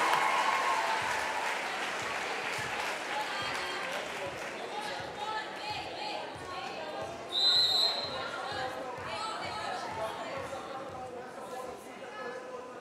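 Arena crowd at an international volleyball match between China and Brazil clapping in a steady rhythmic beat as the teams return to court, with an announcer's voice over it and a brief whistle midway.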